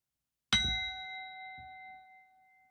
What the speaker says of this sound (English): 1 bell to signify the beginning, 3 to signify the end.